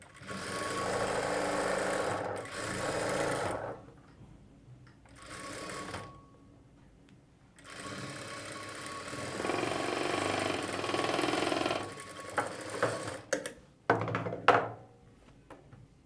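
A sewing machine stitches along the margin of a plain blouse piece in several sustained runs, close and loud, broken by pauses and a few handling clicks near the end.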